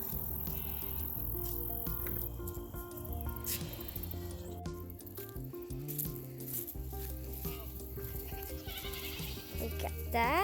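A herd of goats bleating at feeding time, several overlapping nasal calls close by and fairly loud, over farmyard noise with some faint talk.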